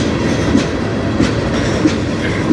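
A long freight train with CP cars and a BNSF locomotive rolls steadily past at close range, a continuous loud rumble broken by regular clickety-clack wheel beats.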